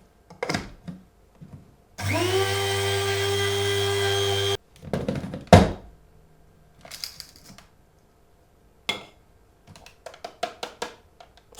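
An electric grinder whirs through poppy seeds in one steady, loud motor whine that lasts about two and a half seconds. Scattered clicks and rattles come before and after it, with no talking.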